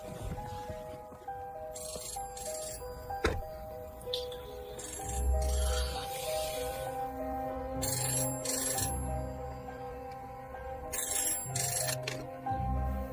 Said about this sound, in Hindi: 5 बज गए हैं, उसी का फोन होगा।